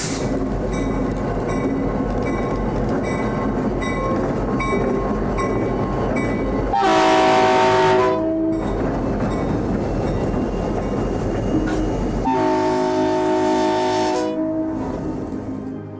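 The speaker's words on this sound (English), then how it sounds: "It's also equipped with a Prime 990 horn, which is a very rare model of horn." A rare Prime 990 freight locomotive horn on the Wichita Terminal Association railroad blares two long blasts over the steady rumble and clatter of a passing train.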